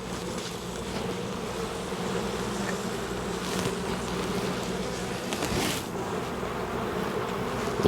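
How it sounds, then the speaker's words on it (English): Honey bees buzz steadily and loudly around an open hive during an inspection, a dense continuous drone with no voices. "You can already tell the bees don't like it."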